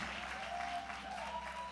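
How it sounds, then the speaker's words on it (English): A church congregation claps together in steady, dense applause that fills the room at moderate volume, with a faint tone running underneath and no voices standing out. "So can you clap your hands one more time"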